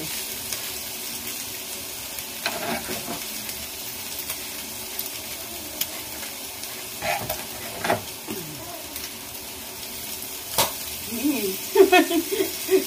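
Oysters hiss into a hot pan for Filipino pancit bihon, a low steady sizzle with occasional louder pops and scrapes, and bursts of crackling toward the end, with people talking quietly now and then.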